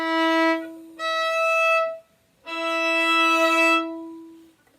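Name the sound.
musical interval of an octave played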